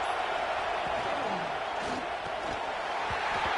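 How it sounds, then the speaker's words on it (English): Dense, steady roar of a big football stadium crowd in Texas, a continuous wash of cheering and noise with no breaks, while a voice talks over it. "Crowd noise. This stadium is vibrating."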